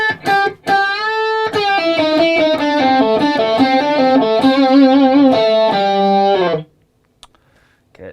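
A slow rock guitar lick played with heavy distortion: a steady run of sustained, overdriven notes and bends for about six seconds, then a sudden stop into near silence.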